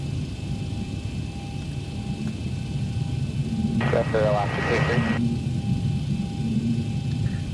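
Kalitta Charters airliner in X-Plane, with engines at takeoff thrust on the runway at Havana: a steady, broad jet roar and low rumble hold throughout, and a voice speaks briefly over it partway through.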